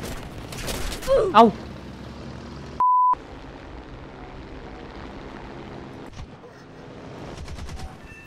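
Bursts of machine-gun fire and booming blasts from War Thunder aircraft combat, clustered early and late with engine drone between, while someone talks over them in Thai.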